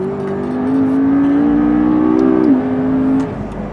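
A McLaren MP4-12C supercar's engine pulls hard under throttle, its loud, smooth tone climbing steadily before easing off near the end, heard up close with no talking.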